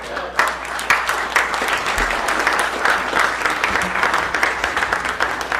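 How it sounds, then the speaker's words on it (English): Audience applause after a presentation on the JFK assassination Secret Service, steady dense clapping from a sizable crowd that holds at an even level throughout. "give me another round of applause for Vince Palamara"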